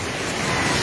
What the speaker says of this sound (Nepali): पानी ढुङ्गामा उलिसकेको छ